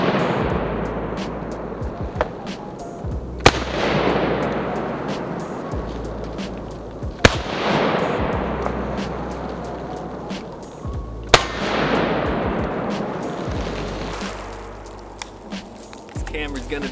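An IWI TS12 bullpup shotgun fires slugs outdoors: three loud, sharp blasts a few seconds apart, each ringing out over a steady low rumble of background noise.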